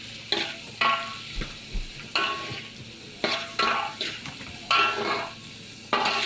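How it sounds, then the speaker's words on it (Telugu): Finely chopped onions fry in a pan while a spoon stirs them in repeated scraping strokes, each one rising over a steady sizzle, with no talking. "ఆనియన్స్ని అందులో వేశాక ఒక స్పూన్ తీసుకొని బాగా మిక్స్ చేయాలి."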